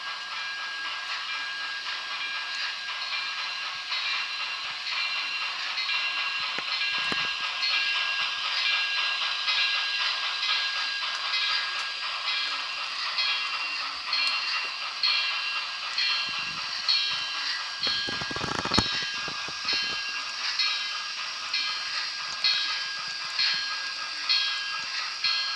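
BLI Light Pacific model steam locomotive, detailed and re-lettered, running on a layout: a continuous close hiss of simulated steam with soft chuffing and faint rail clicks, plus a few brief low thuds toward the end, and no voices.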